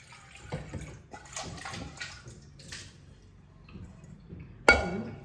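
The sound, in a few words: pieces of banana stem being washed in water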